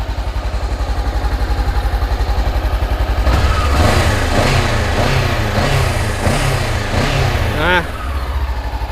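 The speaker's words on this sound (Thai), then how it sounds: "เสียงท่อเดิมครับ เครื่องเงียบนะครับ" A Honda CB500X motorcycle with its stock exhaust, about 3,000 km on it, idles with a steady low thrum, briefly revving a few times before dropping back to a smooth, fairly quiet idle up close.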